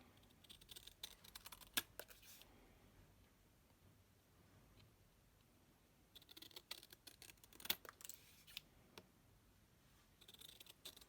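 Long scissors snip through ribbon for a ribbon storage card: a few quiet, crisp cuts come in short clusters with pauses between them, close by in an otherwise still room.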